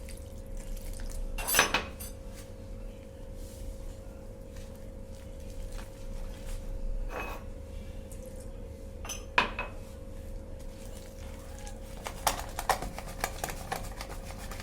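Gram flour (besan) batter with baking powder and water being beaten by hand in a bowl for bread pakoda, giving steady close scraping and whisking clatter, with a few louder knocks against the bowl.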